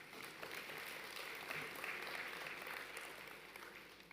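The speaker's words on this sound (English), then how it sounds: "you deserve a round of applause" A conference audience applauds in a steady, even wash of clapping, heard faint and distant throughout.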